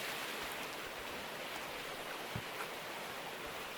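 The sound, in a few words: water poured into a sluice in the video game Gold Rush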